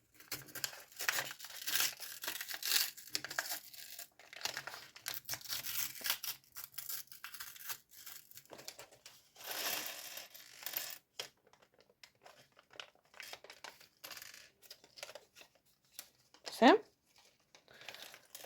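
Close crinkling and rustling of thin plastic as a small bag of Minecraft building set parts is handled and torn open, in irregular bursts that fade to quieter handling.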